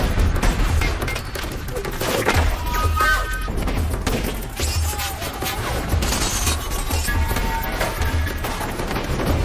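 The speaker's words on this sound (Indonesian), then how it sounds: "Akhirnya pihak musuh menembaki Joe tanpa henti." Sustained gunfire from enemy fighters in an action film, a dense, continuous barrage of shots and crashing impacts filling the whole stretch at steady loudness, with indistinct voices mixed under the shooting.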